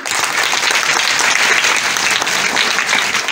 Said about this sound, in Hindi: बजाओ इन बच्चों के लिए ताली